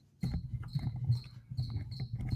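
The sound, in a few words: crickets chirping outdoors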